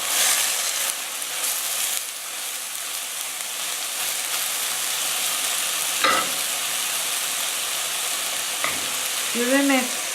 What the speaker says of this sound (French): Je fais rissoler quelques instants les oignons et je vais rajouter le fenouil